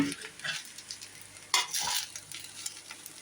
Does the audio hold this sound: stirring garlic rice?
yes